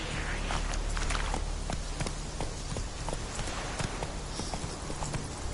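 Horse hooves clip-clop at a steady walking-to-trotting rhythm in The Witcher 3 video game, a continuous, fairly loud stream of hoofbeats over a dense ambient background with no talk.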